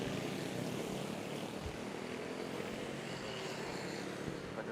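Airliner engines at Manila's NAIA airport, a steady broadband roar of jet engines at a distance, constant and fairly faint throughout, without talk.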